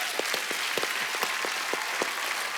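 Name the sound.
studio audience applause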